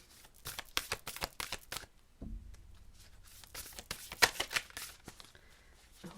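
Oracle cards being shuffled by hand in a quiet room, a run of quick crisp riffling bursts and soft card slaps, pausing midway before more light shuffling and rustles.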